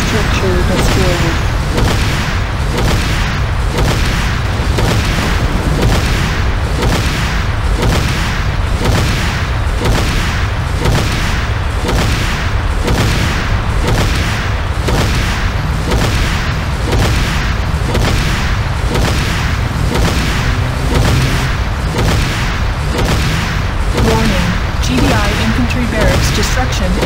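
A GDI power plant blowing up in the game Renegade: a long run of steady, rhythmic heavy booms repeating close and loud for the whole stretch, with a voice heard over the blasts.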